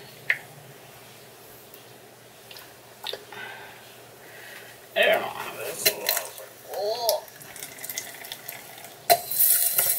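Tap water running into a container in a home kitchen, with a rising fill sound, clinks of dishes and utensils, and scattered handling noises in bursts rather than a continuous stream.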